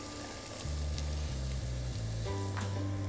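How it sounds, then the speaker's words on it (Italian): Steady, close sizzling of onion browning in a pot, a constant crackling hiss with a faint low hum beneath it. "mentre la nostra cipolla continua a rosolare"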